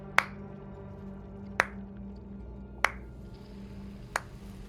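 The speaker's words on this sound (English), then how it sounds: "you begin to hear a clapping" Four slow, deliberate claps ring out one by one, each sharp and crisp with a short echo, spaced evenly apart over a low steady hum in an otherwise quiet space.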